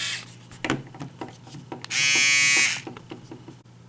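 Remington FR-730 foil electric shaver switched on, a loud steady high-pitched buzz lasting under a second, set between quieter clicks and handling noises.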